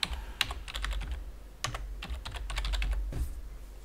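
A username and password are typed on a computer keyboard in quick bursts of clicking keystrokes, close and clear, with short pauses between runs.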